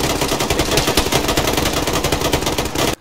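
Rapid automatic gunfire from the military shooter Arma 3 rattles in loud, dense bursts with no break for about three seconds, then stops abruptly; several weapons seem to fire at once during an attack on a squad.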